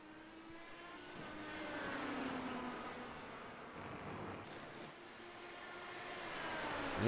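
A Porsche race car in an iRacing replay at Spa-Francorchamps gives a faint, distant engine whine that rises and falls in pitch as it revs through gears, swelling slightly toward the end.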